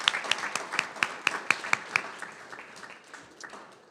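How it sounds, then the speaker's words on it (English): Audience applause at a school board meeting, sharp individual claps standing out at first, then thinning and fading into scattered softer clapping. "So big round of applause for all that huge accomplishment."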